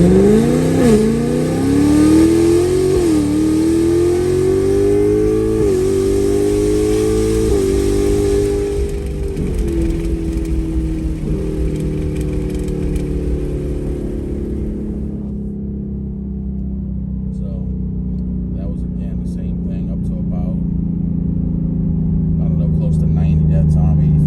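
A 2024 Mustang GT V8 with Kooks green catted exhaust accelerates hard, heard with the windows down. The engine note rises through several gear changes, loud and close, then settles into a steady cruising drone with faint road noise.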